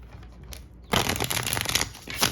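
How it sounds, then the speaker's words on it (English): Someone shuffles a deck of crystal healing oracle cards close up. A soft flutter is followed by a louder, dense riffle of cards slapping together, with no talking. "I'll do a little shuffle, pull a card, and see what we can get from it"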